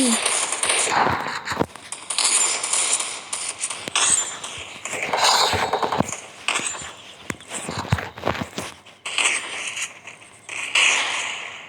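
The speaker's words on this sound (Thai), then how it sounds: "ยิงไม่เข้าเลย" Video game gunfire crackles in scattered rapid bursts and single shots, loud and close, mixed with footsteps and other game effects while a person talks over it.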